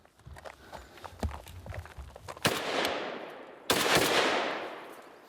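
Close, loud automatic gunfire from a firearm in a Balkan arms-trafficking setting: two rapid bursts of shots, each ringing out with a long decaying echo, following a few scattered single shots and footstep-like knocks.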